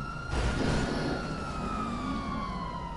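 A GTA 5 police siren holds a long, slowly falling wail over a low vehicle rumble, with a short burst of noise at the start, loud and continuous throughout.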